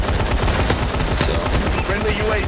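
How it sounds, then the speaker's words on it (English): Regular machine guns in Call of Duty: Advanced Warfare fire in rapid, loud bursts of dense repeated shots, with a voice talking over the gunfire. "you still get to keep your regular machine guns"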